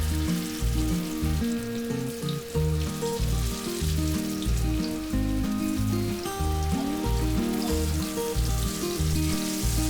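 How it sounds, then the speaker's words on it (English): Marinated sardines, Kerala style, fry in hot oil in a pan, giving a dense, steady crackling sizzle that stays loud and even throughout with no talking. "Then in a hot pan add oil and simply fry the marinated fish."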